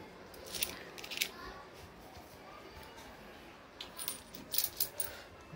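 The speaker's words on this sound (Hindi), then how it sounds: "गुल्लक में डाल देता हूँ।" Several 20-rupee coins clink into a piggy bank in two small bursts, bright metallic taps near the start and a busier cluster toward the end, over a low steady background rumble.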